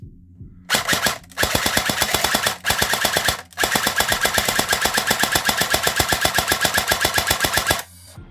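A brand new, unmodified airsoft gun fires in rapid bursts as the trigger is spammed, producing loud, evenly spaced mechanical cracks separated by a few short pauses, then stopping abruptly.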